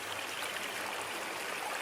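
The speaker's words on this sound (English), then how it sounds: "Just come across, you can see it there, the water coming out." Water pours out of an old mine adit beside a river in a Dartmoor forest, giving a steady broadband rushing and splashing at close range with no speech.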